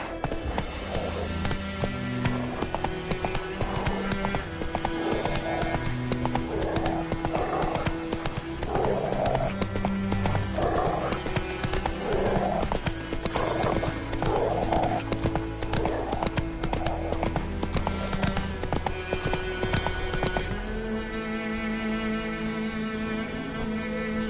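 Geralt's horse Roach galloping in The Witcher 3, a fast steady run of hoofbeats with snorts and game music, continuing for about twenty seconds before easing off near the end.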